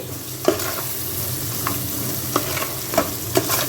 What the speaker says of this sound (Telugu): 1 స్పూన్ కారం, 1 స్పూను ఉప్పు వేసుకుంటున్నానండి, సాల్ట్. ఒకసారి కలుపుకుందాం.